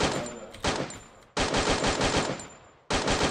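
Rapid automatic gunfire in a video game, firing in three sustained bursts separated by short gaps, loud and close with no talking over it.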